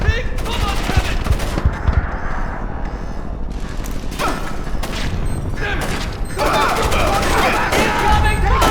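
Heavy gunfire from Splinter Cell: Chaos Theory on PS3, with rapid automatic bursts and mechanical clatter running almost without pause, loud and close, while voices shout over the shooting.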